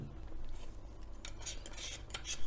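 Eggs whisked for menemen in a bowl, with repeated quick metallic clinks and scrapes building in the second half, near and fairly loud, with no speech.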